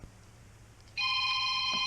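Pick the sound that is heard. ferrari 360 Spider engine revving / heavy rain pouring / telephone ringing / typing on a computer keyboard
telephone ringing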